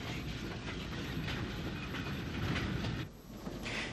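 An 1887-design 0-6-0 tank locomotive built at Inchicore in 1901 hauls a transfer freight out of Glanmire Road, a steady loud rumble with rhythmic clickety-clack of wagon wheels that eases briefly near the end.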